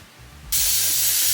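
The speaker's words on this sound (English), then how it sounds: "I'm spraying it on the brush too." A short, sudden burst of hairspray hissing close by, starting abruptly and holding steady after a brief quiet moment.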